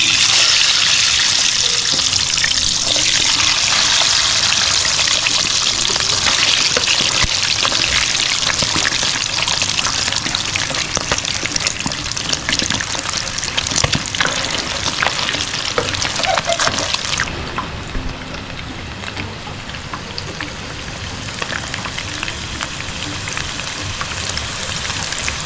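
Pork intestines, isaw and tumbong, deep fry in hot oil with onion, a loud, dense, continuous crackling hiss that eases slightly in intensity partway through, close up with no talking.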